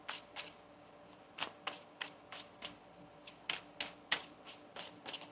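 Tarot cards are shuffled by hand in a quiet room, a rapid series of crisp riffling flicks coming in quick irregular bursts, close and clear with no talking.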